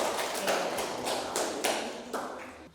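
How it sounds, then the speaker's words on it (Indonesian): A few sharp hand claps ring out in a small classroom, spaced unevenly, with a brief flurry of quicker clapping near the end. "Oke, tepuk tangan buat kita semuanya."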